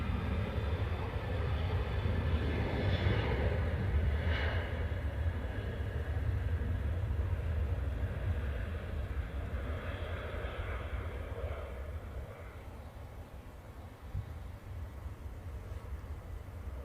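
An Airbus A220 jet passes at Manchester Airport, a steady broad engine roar that holds loud for several seconds and then slowly fades, with no talking.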